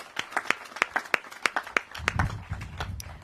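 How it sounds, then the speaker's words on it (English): At a trail ribbon-cutting ceremony, an audience applauds the staff with a burst of sharp, distinct hand claps that builds into fuller applause toward the end. "let's give them a round of applause"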